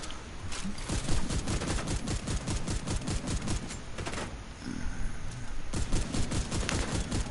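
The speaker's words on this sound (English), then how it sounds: "Close enough to use the shotgun." Rapid, dense gunfire in Tom Clancy's The Division during a fight at CDC headquarters, with a loud, continuous stream of shots, a brief lull partway through and then more firing, and no voices over it.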